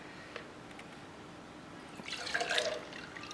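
Displaced water poured from school science equipment into a measuring container, a faint drip at first, then a brief, brighter trickle and splash of liquid near the end.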